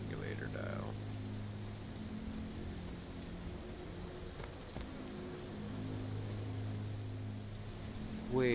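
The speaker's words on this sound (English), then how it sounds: "Oh, it's raining?" Steady rain falls throughout in the VR zombie game The Walking Dead: Saints and Sinners, a soft continuous patter with low droning tones underneath and a brief voice near the start and end.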